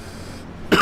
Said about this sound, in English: Hate to cough into my microphone there.